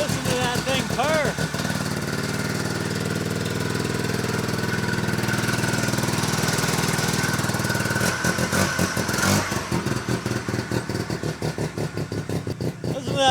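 A 1971 Arctic Cat Panther 303 snowmobile with a Wankel rotary engine runs with a rattling, clattery idle, its uneven revs rising and falling nearby while people talk over it.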